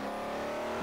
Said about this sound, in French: Nous avons derrière nous un V12 pour animer cette 330.